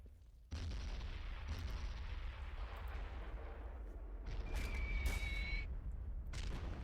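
Artillery gun fires on an enemy trench in a WW1 real-time strategy battle at Belleau Wood, a sustained low rumbling roar of bombardment with heavier booms and sharp cracks building toward the end.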